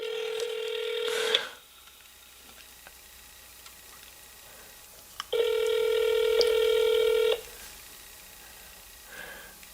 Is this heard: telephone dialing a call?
yes